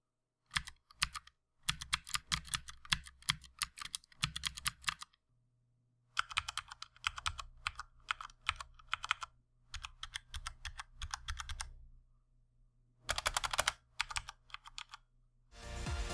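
Clicky typing on a Corsair K95/K70 RGB gaming keyboard with Cherry MX blue and brown switches, fast close bursts of keystrokes broken by short pauses, with a low steady hum underneath in places.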